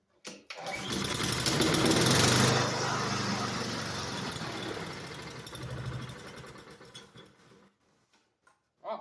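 A Honda Harmony II lawn mower engine catches and runs loudly and roughly for several seconds, then sputters and dies, with a brief restart burst at the end.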